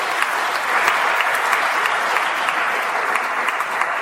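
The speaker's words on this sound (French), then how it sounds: "qu'on applaudisse le Seigneur pour le saluer." A church congregation at a closing worship service in Benin claps steadily and loudly, a dense sustained wave of applause with no break across the whole stretch.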